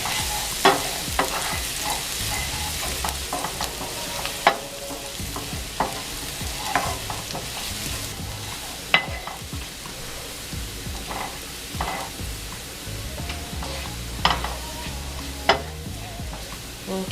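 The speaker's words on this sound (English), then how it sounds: "the other half of the garlic that I separated, I'm just going to saute that in the oil" Garlic sautés in hot oil with a continuous close sizzle, broken by sharp clicks and scrapes of stirring at irregular intervals.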